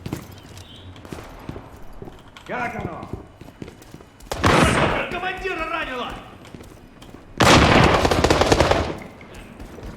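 Bursts of automatic gunfire in the war video game World War 3, with loud rattling volleys around the middle and near the end over quieter game noise, while someone talks.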